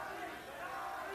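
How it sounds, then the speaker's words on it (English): Boxing arena crowd at a Gatti–Rodriguez fight roaring steadily in a dense, continuous wall of noise, with a commentator talking over it. "Crowd trying to pick Arturo up."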